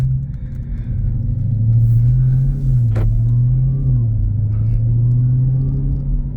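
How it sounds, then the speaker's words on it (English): Engine note of a 2023 Dodge Charger SRT Hellcat Widebody Jailbreak from inside the cabin, a steady loud low drone with a rising and falling pitch as the supercharger whines, plus one brief sharp sound in the middle. "Gotta love that supercharger whine."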